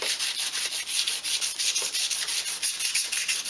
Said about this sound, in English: Just taking the top of the rust off, and the aluminium foil